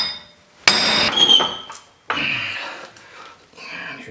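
Two loud, sharp hammer blows strike a seized front hub and wheel bearing assembly on a 2004 Chevy Suburban, each ringing metallically and decaying, with a fainter knock afterward.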